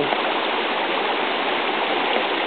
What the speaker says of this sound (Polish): A to jest jeden ze strumyków